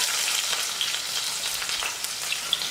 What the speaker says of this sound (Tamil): வெங்காயத்தை சேர்த்துடுறேன்.